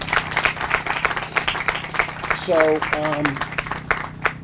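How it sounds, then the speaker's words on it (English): Scattered, moderate clapping from a small outdoor crowd at a housing groundbreaking ceremony on Long Island, with a brief spoken word heard over the applause. "a big round of applause"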